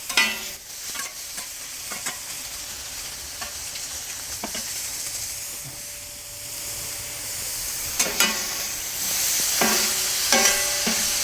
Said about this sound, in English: I just want to give the onions and stuff a little toss